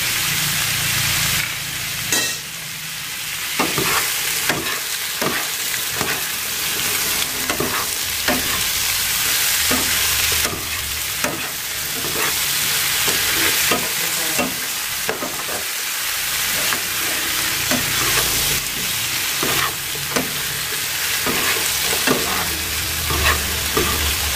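Pork hock stir-fried over high heat in a pan with seasoning, sizzling loudly and steadily throughout with repeated scraping and stirring clatters of a utensil against the pan, no voices.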